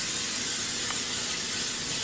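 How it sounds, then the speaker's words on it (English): Canola oil blend non-stick cooking spray hisses onto a pan in one continuous close, loud burst. "So you spray it down"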